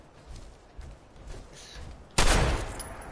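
An experimental pistol in Fallout 4 fires a single loud, sudden shot with a long bright tail, following a few seconds of quieter game ambience.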